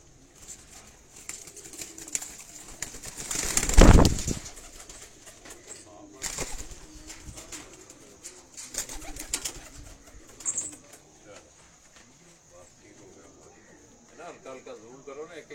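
Pigeons in a cage coo softly and intermittently nearby, with a loud burst of fluttering or handling noise early on and voices talking over much of it.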